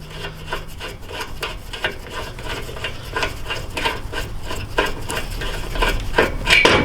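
A riv nut tool squeezed repeatedly to set a riv nut in an engine bay, giving close, rhythmic ratcheting clicks and scraping metallic rubs in quick succession.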